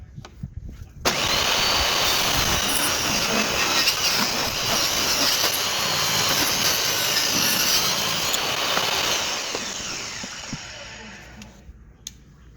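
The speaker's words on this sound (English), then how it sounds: "I'm just going to cut this piece down so I can glue that together." A power tool cuts through a piece of walnut for a cigar box guitar build, a loud, harsh, hissing roar that starts suddenly, runs for several seconds, then fades and stops.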